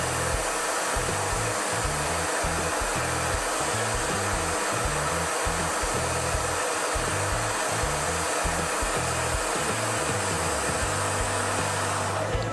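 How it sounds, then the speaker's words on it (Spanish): A hair dryer blows on a painted craft face piece in the Quito art style, a steady loud whooshing hum with a slightly fluttering low motor tone that runs without a break and without any talk. "voy a darle un poquito de secador a esto"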